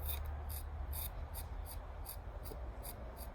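A blade makes light, rhythmic scraping strokes as it shaves the thin outer layer off a blueberry cutting, faint and close over a low background hum.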